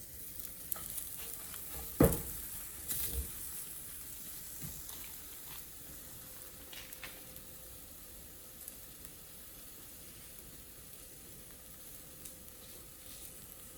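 Oiled eggplant halves sizzle flesh side down on high heat, a quiet, even frying hiss broken early by a couple of louder knocks and clatters from the pan, with no talking.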